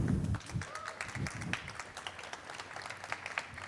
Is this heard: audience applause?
yes